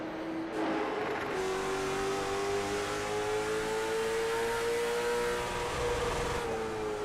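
Race car engines at Martinsville in the iRacing sim, CARS Tour cars droning at a steady high pitch, with one engine holding a rising whine as it accelerates, loud and continuous with no talk.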